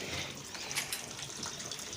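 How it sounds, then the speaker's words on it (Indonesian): Water pours into a Panasonic NA-W76BBZ2 washing machine as it fills for the rinse, a faint, steady hissing gush with no pauses. "Kita isi lagi ya sampai airnya penuh."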